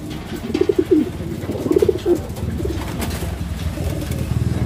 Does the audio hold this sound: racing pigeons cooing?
yes